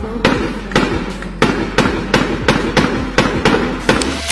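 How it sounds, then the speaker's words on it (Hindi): A rapid string of about ten loud firecracker bangs, sharp and close, bursting at a fairly even rhythm with no voices. "अचानक सामने से पटाखा फूटने की आवाज आती है"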